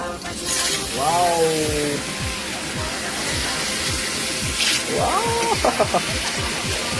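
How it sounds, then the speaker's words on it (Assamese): Snails frying in a pan with ginger, garlic, onion and chilli, a steady sizzle underneath, with someone talking over the cooking noise. "এয়া জলকীয়া ফ্ৰাই কৰি আছোঁ"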